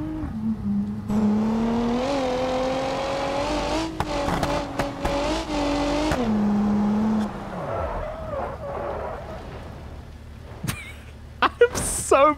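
A GTR engine revs hard and drones steadily while the car goes off-road in BeamNG Drive, pitch rising and dipping with the throttle, then dropping away, with tire noise, scattered knocks and someone talking.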